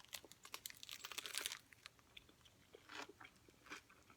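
Someone bites into a raw Swiss chard wrap, giving crisp, crackly crunches, then softer chewing in close, faint bursts with no talking.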